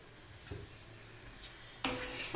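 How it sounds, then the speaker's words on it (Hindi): A spoon stirs sugar and crushed cardamom into besan halwa in a pan, with soft sizzling throughout, a light scrape near the start, and a louder burst of frying and stirring toward the end. "और इसे अच्छे से मिक्स कर लेंगे।"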